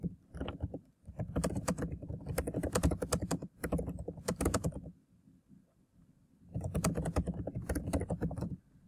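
Typing on a computer keyboard: rapid clusters of close, crisp keystrokes in bursts, broken by a short pause before another flurry, with no other sound.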